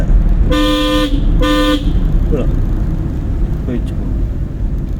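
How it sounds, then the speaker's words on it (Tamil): A driving-school car's horn sounds two short, loud blasts close by, followed by quieter traffic and cabin noise. "ஹார்ன் அடிச்சு பத்தலை."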